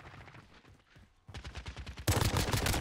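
Rapid bursts of automatic gunfire in the Modern Warfare video game, sparse and quieter at first, then dense, loud fire at close range after a short lull.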